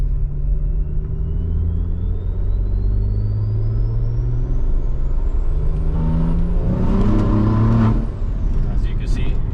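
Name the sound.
BMW B58 turbo car accelerating hard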